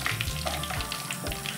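Mustard, fenugreek and cumin seeds sizzle loudly in hot oil for a Telugu tempering, a close, dense crackle and hiss with stirring scrapes throughout and no voices.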